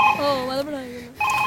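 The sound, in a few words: telephone ringing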